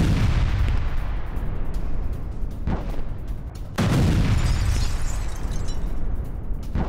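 Explosions from an Israeli air strike in Tyre, Lebanon roar as a continuous heavy rumble, broken by two sharp blast onsets partway through.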